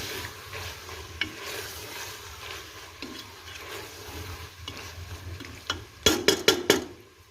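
Goat tripe (ojri) roasts in a pan with a soft continuous sizzle as it is stirred, ending in a burst of several loud metallic scrapes and knocks of a spoon against the pan.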